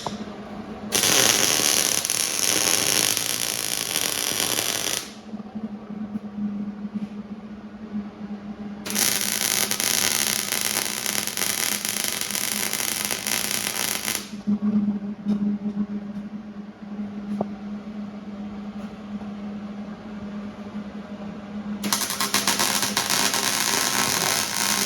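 Tack welding a joint on an old rat rod frame: three loud bursts of harsh crackling arc hiss, each several seconds long, separated by quieter stretches with a low steady hum.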